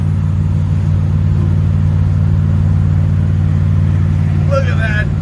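Steady engine drone and road rumble from a vehicle towing a trailer on a drive, constant and loud throughout, with a brief high squeal near the end.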